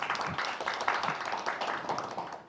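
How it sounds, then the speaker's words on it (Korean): Audience at a Korean civic research report meeting clapping, a fairly faint, steady patter of many hands throughout the short stretch. "다시 한번 박수로 뜨겁게 맞아주시기 바랍니다"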